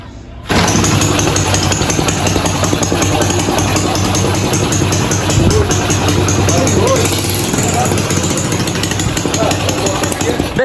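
A Yamaha Fazer 250 motorcycle engine runs loud and close after a carburetor adjustment, a steady rattling idle that continues unbroken, with someone speaking over it.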